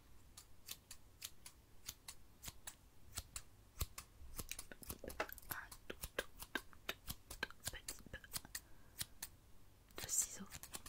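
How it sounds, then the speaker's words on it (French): Scissors snipping steadily for ASMR, a close, crisp series of rapid cuts in an even rhythm, with soft whispered speech running underneath. "Ça fait longtemps que j'ai pas utilisé réellement les ciseaux."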